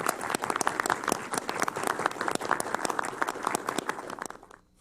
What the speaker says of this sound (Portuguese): solicitar a todos uma salva de palmas para esse pessoal